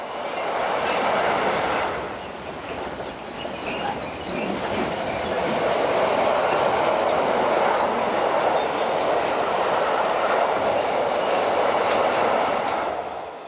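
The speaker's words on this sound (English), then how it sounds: "185136 heads south with a train of vans from Mannheim to Chiasso." Electric locomotive 185136 hauls a southbound freight train of vans from Mannheim to Chiasso, a steady loud rumble and rolling roar of wheels and wagons passing close by, with clickety-clack and occasional squeal throughout.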